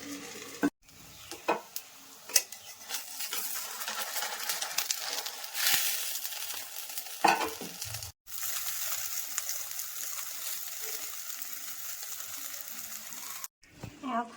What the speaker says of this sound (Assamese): এইখিনি ধুনীয়াকৈ এতিয়া মিক্স কৰি ল'লোঁ